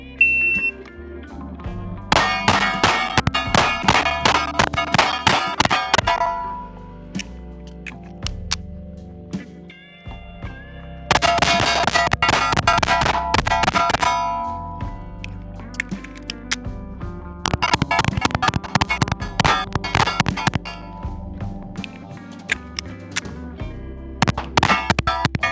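A Smith & Wesson PC Bodyguard .38 revolver fires at targets in several rapid strings of sharp, loud shots separated by reload pauses, with ringing metallic clangs among the reports.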